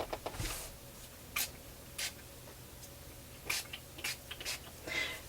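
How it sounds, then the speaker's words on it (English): Quick hissing bursts of a spray bottle misting red ink onto paper pages, about ten short puffs at irregular intervals, close and soft against a quiet room. "do some spraying across my pages using Dilution's Postbox Red ink spray"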